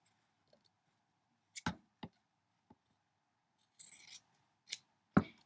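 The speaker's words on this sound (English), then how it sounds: "And then I can cut these little corners off." Scissors snip small corners off quilt fabric in a series of sharp, close, isolated cuts with quiet pauses between them.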